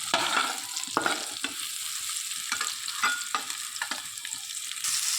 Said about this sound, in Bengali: পনিরটাও প্রায় ভাজা হয়ে এসেছে, এবার নামিয়ে নেব পনিরটাকে